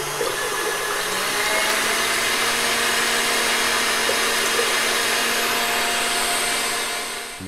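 An electric mixer on high beats eggs until frothy for pizzelle batter. It gives a loud, steady whirring drone that holds for several seconds and then eases off at the end.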